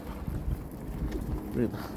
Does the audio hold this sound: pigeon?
yes